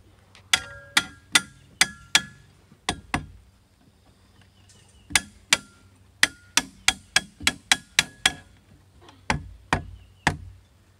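Sharp wooden knocks from a mallet tapping playset parts into place, struck in quick bursts of several blows with short pauses between, close and clear with no talk.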